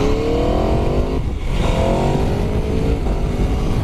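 A 2017 Aprilia RSV4-RF motorcycle engine roars loud and close while being ridden, its pitch climbing under hard acceleration, dipping briefly at a gear change, then rising again, with steady wind rush behind it.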